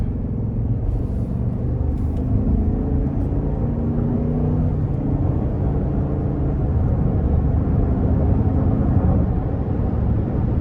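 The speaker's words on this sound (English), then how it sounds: "I will give it a bit of throttle here, but not too much." A 2024 Cadillac Escalade Sport Platinum accelerates under moderate throttle, a steady deep engine rumble and road noise heard from inside the cabin, constant and fairly loud throughout.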